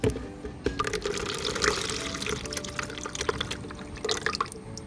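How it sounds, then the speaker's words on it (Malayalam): Homemade garden energy booster liquid, made from sour buttermilk, jaggery and rice water, poured into a bucket; a steady splashing, trickling pour with drips runs for several seconds, close and moderately quiet, with no talking. "ഉണ്ടാക്കി വെച്ച എനർജി ബൂസ്റ്റർ ഒരു ബക്കറ്റിലേക്ക് നമുക്ക് ഒഴിച്ച് നേർപ്പിച്ചെടുക്കാം"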